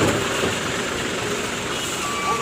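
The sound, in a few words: Efisiensi Jaya bus passing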